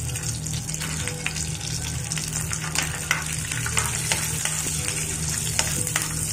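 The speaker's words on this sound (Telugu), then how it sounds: "ఈ డ్రై నట్స్ని కొంచెం దూరగా ఫ్రై చేసేసుకుందామండి" Dry nuts frying in ghee in a pan over a low flame, a steady close sizzle with small crackles and occasional stirring clinks throughout, no voices.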